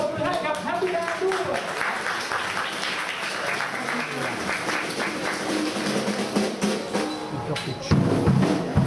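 An audience applauds a band at a party, with steady, dense clapping that runs throughout while a voice talks over it and the clapping swells near the end.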